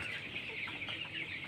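Layer hens on a poultry farm clucking together, a steady chorus of busy, overlapping clucks and calls at moderate volume, without speech.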